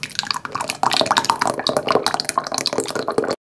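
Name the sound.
pouring teriyaki sauce onto chicken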